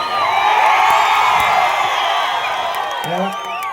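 Crowd at an outdoor comedy show erupts in loud cheering, whoops and shouts with some clapping, a sustained roar that fades slightly toward the end.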